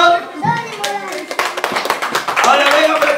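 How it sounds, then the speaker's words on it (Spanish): Close, lively clapping from a school year-end closing ceremony crowd, bursting in over children's and adults' voices and continuing in an uneven patter for a few seconds. "¡Aplauso!"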